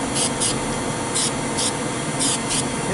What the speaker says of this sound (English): hit the whole thing with a little spray